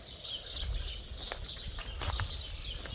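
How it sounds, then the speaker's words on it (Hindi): Birds chirping from the treetops at the Otorohanga Kiwi House in New Zealand: scattered high calls and tweets repeat through the clip over a low rumble of outdoor background noise. No one speaks. "ऊपर चहचहाट की आवाज़ें पेड़ के ऊपर से बहुत आ रही हैं।"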